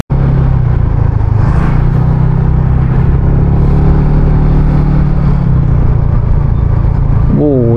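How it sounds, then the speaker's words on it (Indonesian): A car passes in front on a narrow village road lined with villas in Cisarua, a steady loud engine rumble and whir filling the scene with a slight rise and fall, heard from close by inside a vehicle. "karena ada mobil sih lewat di depan kita ya"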